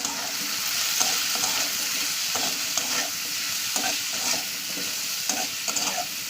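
Turmeric powder and salt fry in hot oil in a pan and are stirred steadily, giving a constant sizzle broken by rhythmic scraping strokes of the spoon, close and fairly loud.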